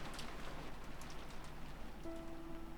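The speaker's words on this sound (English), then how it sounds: "the sound of the downpouring rain kept turning their attention towards the mystery guest" Steady downpouring rain in the video game Umineko When They Cry, a continuous dense hiss with no voices, with a faint tonal hum near the end.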